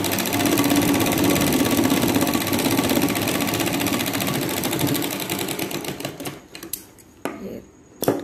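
A sewing machine runs in a fast, steady mechanical chatter while stitching a katori blouse, close and continuous for most of the time before stopping and giving way to a few handling clicks.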